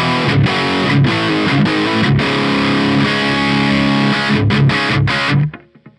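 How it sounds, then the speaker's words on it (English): A Laney VH100R amp on its high gain channel with extra drive pushes out loud, saturated distorted guitar chords with chugging palm-muted hits, then the sound cuts off abruptly near the end. "I've got the VH100R set up on the high gain channel with the additional drive on"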